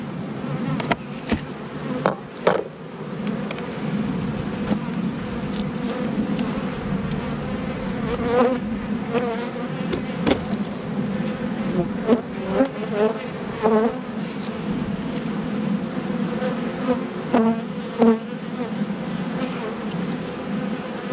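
Honey bees swarm around a Langstroth nuc hive, a dense steady buzzing close by with individual bees droning past and a few light knocks and clicks of frames.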